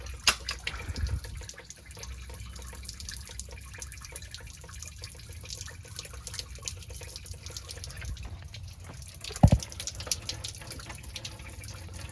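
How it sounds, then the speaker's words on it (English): Steady trickle of coolant draining from a radiator hose on a Toyota 80 Series Land Cruiser, a soft continuous splatter with a sharp clunk near the end; no voices. "It's like straight water coming out of there."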